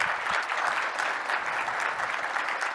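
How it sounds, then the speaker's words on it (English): Conference audience at a tech user event gives the presenters a round of applause, a steady, even wash of many hands clapping that holds at full strength throughout, with no voices over it. "let's give him a round of applause"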